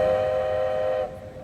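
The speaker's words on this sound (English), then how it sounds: "here is the actual whistle on the locomotive." A model locomotive's steam whistle blows a steady, reedy multi-tone note, loud and close, then drops away abruptly after about a second.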